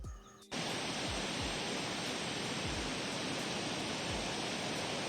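Water from an opened dam in the rainy season rushes loudly and continuously, a dense, broad roar that fills the whole span after a brief quieter opening.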